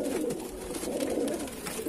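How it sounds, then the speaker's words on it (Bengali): Kalanka pigeons cooing in a loft, with soft, continuous overlapping low coos from several birds nearby. "সব কালাঙ্কা পায়রা, আমার সুলতান পায়রা বেশিরভাগ এখানে"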